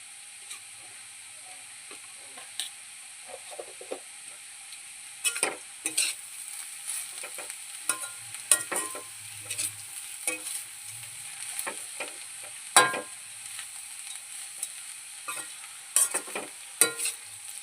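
Jackfruit curry fries in a pan with turmeric added, giving a thin, steady sizzle while a spatula scrapes and taps at an irregular rhythm, close and moderately loud, with brief quiet gaps between strokes.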